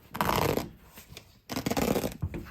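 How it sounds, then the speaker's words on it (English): Velcro strips on a Can-Am Defender seat cover are pulled apart in two close, loud rasping rips, each a fraction of a second of harsh tearing, with a brief quieter pause between them. "you can see a little zipper Velcro that'll just pull back."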